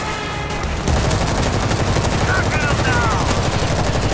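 Heavy gun in the zombie shooter World War Z fires in a rapid, continuous stream, loud and up front, starting under a second in and holding steady to the end, with a voice talking over it.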